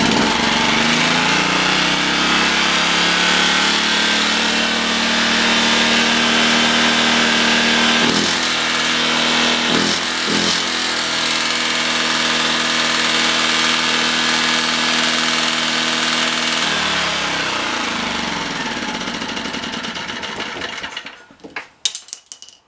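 A Honda GN190 small engine runs steadily at about 2000 RPM during governor adjustment, a close, even mechanical drone with a couple of brief hitches before it sputters and cuts out at the end.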